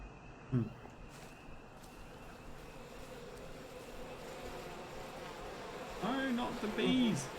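Bees buzz in the video game We Happy Few, a steady droning swarm with a rising, fluttering hum toward the end, with someone briefly speaking over it.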